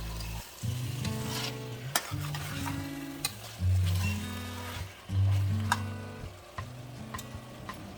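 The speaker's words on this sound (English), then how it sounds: "Sear the mutton for about 2 minutes." Roughly one kilogram of washed mutton pieces sears in a hot pan, a steady sizzle with repeated stirring scrapes and a few sharp clinks of the utensil against the pan, close and clear with no talking.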